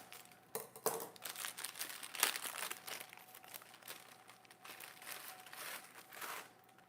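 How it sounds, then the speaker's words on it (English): Plastic packaging crinkled and worked open up close during Thanksgiving side-dish prep, a continuous rustling crackle with sharper snaps early on, no talking. "Packaging wants to give me a hard time, so we're just gonna cut it."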